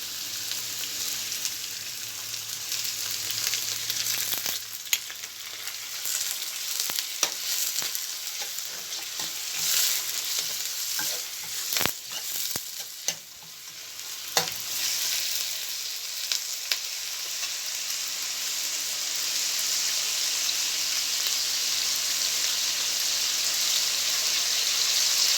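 Chicken gizzards fry in a pan with a constant bright sizzle. A few sharp crackles and stirring knocks come early, then the frying settles and slowly grows louder and more even.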